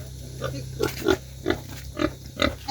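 Native piglets on a farm, seventeen young pigs giving short grunts and squeals, about six quick bursts spaced roughly half a second apart over a steady low hum, fairly close and moderate in loudness.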